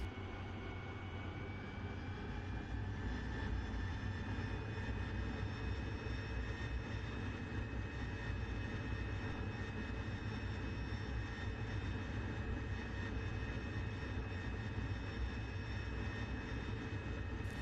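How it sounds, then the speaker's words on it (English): An AV-8B Harrier jet engine at full throttle in the DCS flight simulator: a steady, loud, roaring drone with a whining tonal layer holds unbroken throughout, with no voices. "initiate the takeoff by adding power to full throttle"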